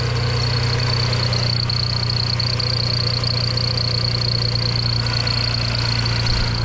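Audi Avant engine idling smoothly after misfire repairs, warmed up to temperature; a steady, loud low hum with a constant whine above it, running alone without talk.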